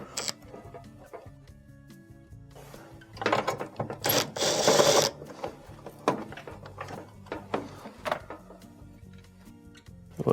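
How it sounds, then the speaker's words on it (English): A screwdriver removes two Phillips screws holding an electronic control circuit board on a range oven: close, quiet clicking and ratcheting, with a louder scraping burst in the middle and scattered small taps and rattles. "use our screwdriver to remove the two Phillips screws that are holding on the board"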